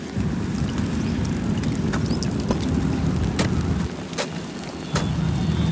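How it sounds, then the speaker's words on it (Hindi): A heavy rainstorm with strong wind, heard as a dense, continuous roar of rain and gusts with scattered sharper bursts and a short dip in intensity near the end, loud and enveloping. "बारिश फिर से आना शुरू हो गई है, बारिश भी तेज़ है, गरज चमक भी है, साथ में आंधी भी चलने लग गई है।"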